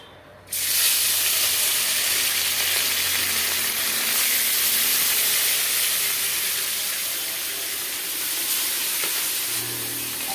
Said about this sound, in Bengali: তেলটা গরম হয়ে গেছে ভালোভাবে মাছটা